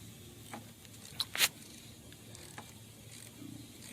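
A ratchet tightens a Prius battery terminal, heard as a few faint, scattered metallic clicks and one sharper pair of clacks midway against quiet background.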